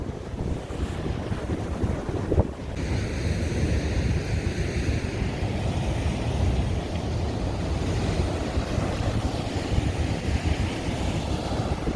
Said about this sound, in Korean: 아 파도가 좀 과하네